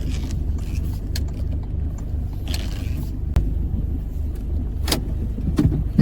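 A car parks in a New Zealand supermarket lot, its engine giving a steady low rumble close by, with a few faint clicks and a sharp thump partway through, and no talking.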